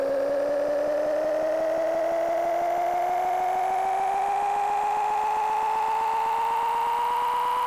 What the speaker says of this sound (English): It totally is the Star Trek phaser on overload.